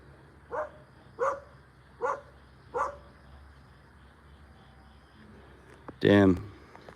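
A dog barks on a rural road in Kampot, Cambodia: four evenly spaced barks at a moderate distance, then a louder, harsher burst, over quiet outdoor background.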